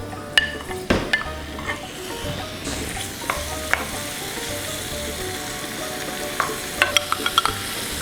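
Shrimp sizzle and fry steadily in a hot pan, with a spoon or spatula stirring and scraping over a continuous crackling hiss, plus occasional clinks of utensils against the pan and no talking.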